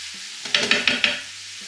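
Chicken pieces cook with capers in a pan over a medium-high flame, a steady sizzle broken by four quick scraping stirs in a row, close and fairly loud, with no voices.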